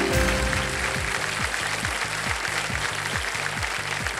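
Studio audience applause on the Indian quiz show Kaun Banega Crorepati Season 17 rises under a pulsing musical sting with a steady low beat, a continuous clapping wash at moderate volume.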